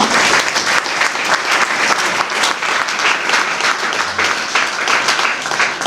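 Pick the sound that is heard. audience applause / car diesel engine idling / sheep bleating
audience applause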